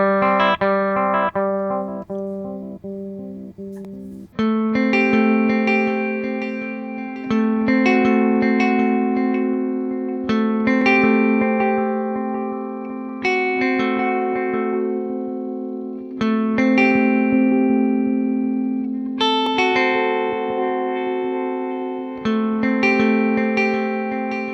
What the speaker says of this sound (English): the less high end there is in the repeats, so you can emulate an analog delay